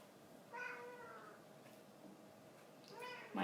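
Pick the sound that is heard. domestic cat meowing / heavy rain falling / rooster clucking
domestic cat meowing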